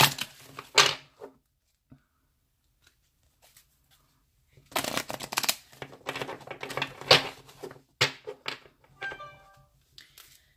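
Tarot cards are shuffled in repeated crisp, riffling bursts, close up, with brief pauses between rounds and no talking.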